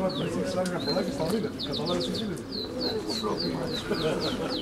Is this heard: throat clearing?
no